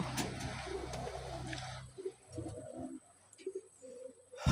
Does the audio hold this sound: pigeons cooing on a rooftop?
yes